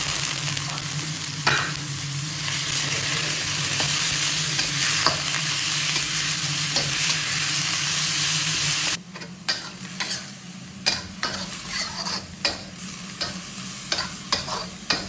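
Pork sizzles and crackles steadily in a pot, with sharper stirring scrapes and clatters toward the end, close by and without talk.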